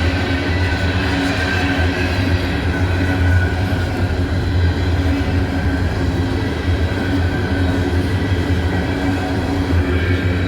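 Freight train with a mid-unit locomotive rolling past near Abbeville and Greenwood, South Carolina: a loud, steady, close rumble of cars and wheels with a droning engine tone, continuous throughout, no speech.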